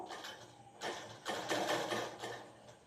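A sewing machine stitches two layers of elastic together for a pleated knicker, running in bursts with brief pauses between, the motor whirring close and fairly loud.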